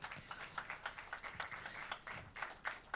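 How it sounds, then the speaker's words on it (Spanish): A church congregation gives a short round of applause to the Lord after prayer: faint, rapid scattered clapping with irregular bursts, heard at a distance. "Denle un aplauso al Señor en esta hora."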